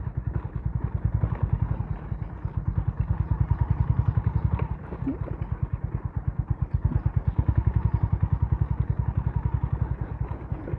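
A Honda CB350RS motorcycle engine chugs steadily with a rapid, pulsing rhythm, close up, with occasional thumps and clatter as it rolls in second gear over a rough, uneven road.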